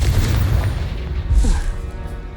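A single Confringo blasting spell from the Hogwarts Legacy video game bursts with a deep, close boom and a short rumbling decay.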